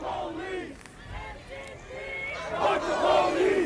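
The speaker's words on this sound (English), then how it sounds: "This is a large crowd here on Sunset Boulevard." A large crowd of protesters gathered on Sunset Boulevard in Los Angeles, with shouting and cheering voices that rise louder toward the end, mixed with nearby talk.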